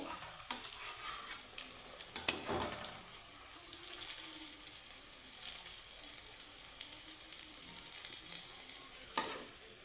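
Dough fries in a pan with a steady, soft sizzle and occasional stirring or spoon scrapes, moderately quiet and continuous without speech.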